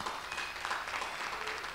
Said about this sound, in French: On peut applaudir et pour terminer ici.